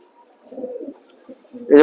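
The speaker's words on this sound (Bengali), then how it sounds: "এটা ইয়াং কবুতর বিআরপিউ এর টেক লাগানো আছে" A young female racing pigeon gives a short, low, close coo that rises in loudness at the very end.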